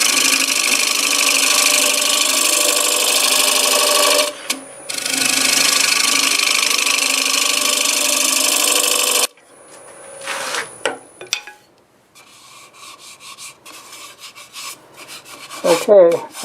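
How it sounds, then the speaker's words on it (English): A negative rake scraper cuts wood spinning on a lathe at about 750 RPM, producing a loud, sustained rasping hiss that breaks off briefly, resumes, then stops, leaving scattered quieter knocks and scrapes. "I'll just use the negative rake scraper now and clean this up"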